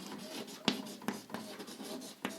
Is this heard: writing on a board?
yes